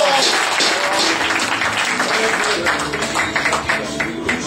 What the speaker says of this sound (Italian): Un applauso, un applauso